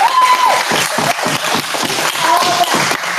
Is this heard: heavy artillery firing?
no